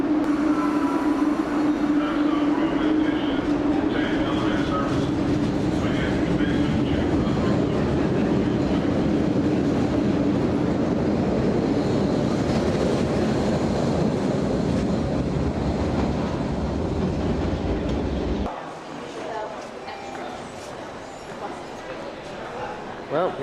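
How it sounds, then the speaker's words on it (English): An MBTA commuter train in Boston rumbles along on a ride, a loud continuous roar and rattle that drops abruptly to quieter cabin noise near the end, with some talking. "So we're going to be taking this MBTA train, which happens to be boarding at this very convenient moment. And here we are now on the train."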